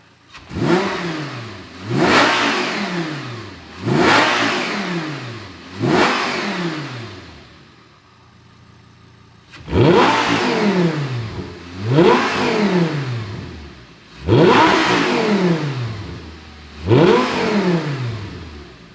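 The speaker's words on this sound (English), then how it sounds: "So let's get in the car, do a cold start." A manual Audi R8 V10 engine revs in repeated sharp bursts on a cold start, each rising then falling back, close and loud with short pauses between.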